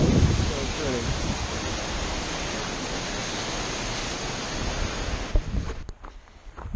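A waterfall near Roaring Springs in the Grand Canyon gives a dense, constant roar of falling water that fills the scene. Wind buffets the microphone, and the rush is jostled and broken near the end.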